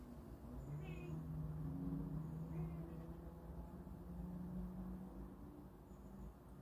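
A cat meows in a few soft, drawn-out calls over a quiet, low background hum, with no talking heard.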